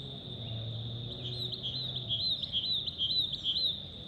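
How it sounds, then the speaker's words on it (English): Small bird warbling and chirping in varied high trills, distant but clear over a soft low background hum, no talking. "you can hear the singing of the nightingale."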